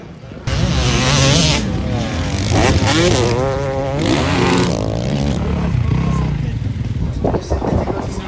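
A Yamaha YZ125 two-stroke motocross bike races loudly nearby, its engine rising and falling through revs with a buzzing, wavering tone, while a voice talks over it.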